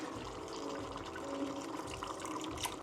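Tap water runs steadily into a cooking pot of tomato sauce for chicken caldereta, a continuous hissing splash with no speech.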